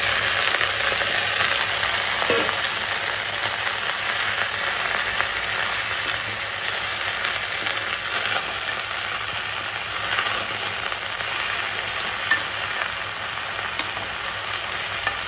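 Taro leaves fry in hot oil with garlic and onion, giving a loud, steady, close-up sizzle that hisses evenly throughout with only faint stray crackles.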